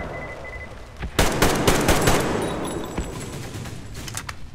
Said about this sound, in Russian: А автомат хорош. Очень хорош. В меру скорострельный.